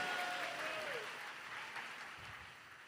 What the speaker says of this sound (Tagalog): Palakpakan po nating malakas.